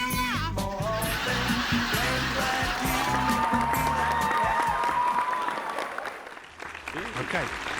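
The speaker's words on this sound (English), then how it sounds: "So let's have the applause for that." Clapping during a Formula 1 podcast recording runs under loud, animated voices talking and calling out over it, then thins and drops away near the end.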